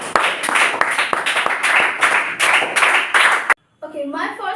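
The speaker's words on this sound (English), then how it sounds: "Clap for it." Students in a school debate clap together, a dense burst of handclaps with a few sharp claps standing out, lasting several seconds before cutting off abruptly, followed by a voice speaking.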